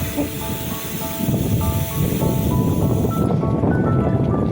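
Strong wind roars and buffets close by on a riverside boardwalk in Valenzuela City, Philippines, a steady broadband rush with a low rumble underneath and no voices.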